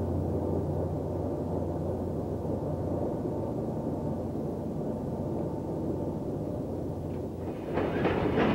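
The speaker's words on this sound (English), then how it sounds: "The empty train wastes no time in getting underway and backs out of the siding." An empty Norfolk Southern freight train rumbles steadily along the tracks out of a siding with a low, continuous roar and faint rhythmic clatter, growing a little noisier near the end. No voices.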